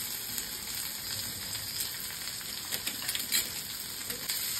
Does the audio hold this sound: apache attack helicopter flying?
no